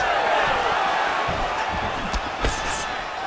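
A large arena crowd in the UFC 5 video game sends up a steady, sustained roar of oohs and murmurs, with a few sharp impact thuds from the fight.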